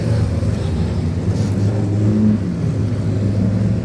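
A number 92 race car, running in a pre-1963 and 1950s full-race event at Silverstone, revs hard, giving a loud, steady engine roar with harmonic rises and falls that blends with other cars.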